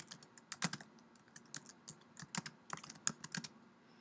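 Quick, uneven keystrokes on a computer keyboard as a title is typed, close and fairly quiet, in short bursts with brief pauses and no talking.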